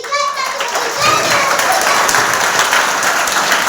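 A crowd at a school event claps loudly and continuously for a student speaker, dense applause filling the whole stretch with a few children's voices mixed in.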